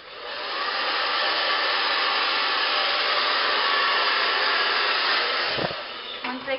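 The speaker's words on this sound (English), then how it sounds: "This is a diffuser. This is what I use for curly hair. It just distributes the heat and the air evenly" A hair dryer fitted with a diffuser blows steadily while drying curly hair, its loud, even whooshing roar running nearly unbroken and then briefly dipping and faltering near the end.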